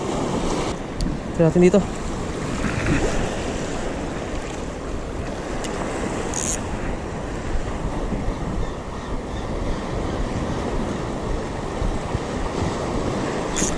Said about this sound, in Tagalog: Medyo lumalakas na yung alon mga master.